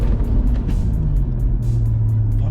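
A BMW M135i XHP Stage 3 accelerates hard through its gears, a loud, close engine drone whose pitch climbs and drops with each shift, heard from inside the car.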